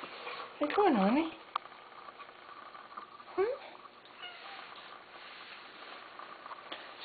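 A small, solid-built female cat plays with a kitten toy, giving a bending meow early on and a shorter one later, with faint scratchy patter between; a person speaks softly to her throughout.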